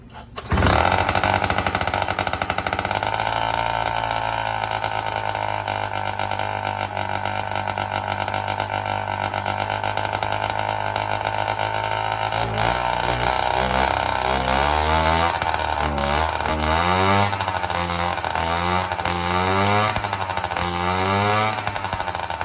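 A GameFisher 3.0 outboard boat motor is choked, started and kept running, giving a loud, steady engine drone close by that shifts into an uneven, warbling idle near the end, with no talking.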